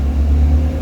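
Car engine revving as the accelerator is pressed, heard up close in a workshop during a 6L80 transmission rebuild; a loud, steady low rumble held briefly without talk.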